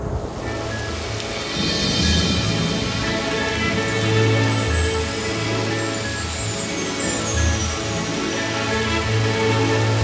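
Steady, even rain falls in a dense hiss for the whole stretch, with soft melodic background music playing underneath.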